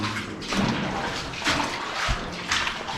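Water runs and sloshes steadily inside an old mine adit, the Barbara adit at Złoty Stok, a close continuous wet rushing with a few louder splashes, no speech.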